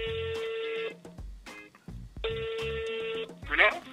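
A phone call is being placed and the line rings: two long electronic ring tones separated by a pause, loud and close, with faint voices briefly audible near the end.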